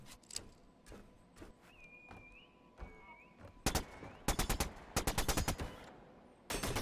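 Gunfire from the video game Signal from Tölva crackles in sharp, separate shots that give way to rapid automatic bursts, loud and close, with no talking.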